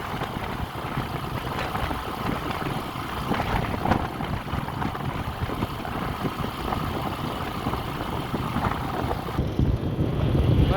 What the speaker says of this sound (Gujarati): ડબલ પવન થાય રે એક બાજુ તો રણનો પવન તો વધારે હોય જ